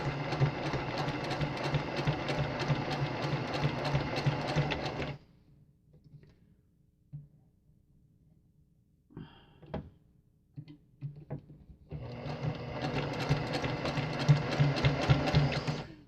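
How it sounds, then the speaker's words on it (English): A sewing machine runs in two loud, steady stitching bursts, with a quiet pause between them filled by small clicks and handling noises. "My sewing machine has this knob up here"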